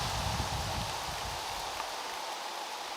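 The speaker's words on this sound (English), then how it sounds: "Raining pine needles." Soft, steady patter of pine needles falling through trees like fine rain, dripping onto needles and ground, continuous and fairly close, with no voices.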